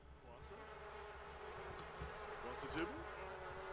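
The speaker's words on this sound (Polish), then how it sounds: "Więź z pszczołami budujemy." Bees buzz steadily in The Sims 4 life simulation game, a dense continuous drone with a few louder passes near the end, with a faint voice underneath.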